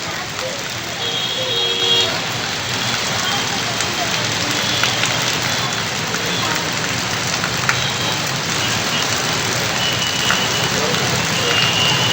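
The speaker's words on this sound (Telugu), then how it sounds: "నిన్న రాత్రి నుంచి ఎడతెరుపు లేకుండా వర్షం కురుస్తుంది" Continuous heavy rain over Hyderabad's waterlogged city streets, a steady, unbroken hiss and patter that holds at the same level from start to finish.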